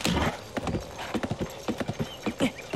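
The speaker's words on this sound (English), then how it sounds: "These horses might be better than what we've got." Hooves clip-clop in uneven clusters from horses in Zelda: Tears of the Kingdom, close and fairly loud, with a brief faint whinny at the opening.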